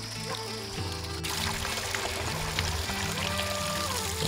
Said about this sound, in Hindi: तो चलिए तब तक भर लेते हैं इसमें पानी